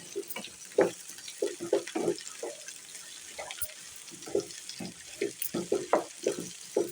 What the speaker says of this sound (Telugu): ఇప్పుడు ఈ ఉల్లిపాయ ముక్కలు, కాకరకాయ ముక్కలు కలిసేలాగా చక్కగా ఫ్రై చేసుకోవాలి.